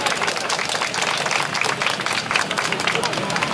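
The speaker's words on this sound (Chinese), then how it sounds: "好，但我们还是尽量掌声鼓励他一下好不好？" A small street audience at an outdoor political talk in Taichung claps steadily for a nervous young speaker, a lively patter of hands with background chatter underneath.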